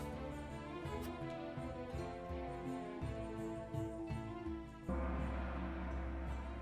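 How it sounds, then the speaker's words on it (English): Battlefield ambience from the Triangle Strategy video game: a dense, continuous bed of layered tonal sound and low rumble that stays loud throughout, shifting heavier and deeper partway through, with no speech over it. "It's the sound of a battlefield."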